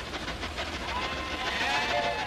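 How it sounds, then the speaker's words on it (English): An electric toy train rumbles steadily along its rails with a continuous whirring hum and faint rhythmic clicking, close by and even in loudness. "Check this out. It's an electric train."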